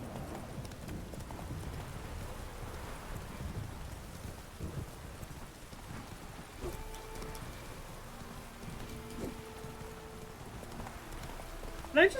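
Roach, the horse in The Witcher 3, galloping with rhythmic clip-clop hoofbeats under rain and distant thunder, faint and steady, with someone talking over it.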